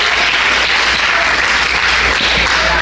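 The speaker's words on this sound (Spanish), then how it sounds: "Denle un aplauso al Señor, aleluya" A church congregation at a Holy Week service claps together in a loud, continuous wash of applause lasting a few seconds, with no voice above it.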